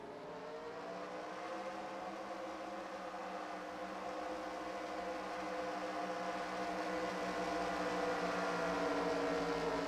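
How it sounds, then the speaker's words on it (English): Stock car engines fire up together at Las Vegas in a racing video game, a layered droning roar that holds steady and grows slightly louder toward the end, with no talk over it. "Drivers, start your engines."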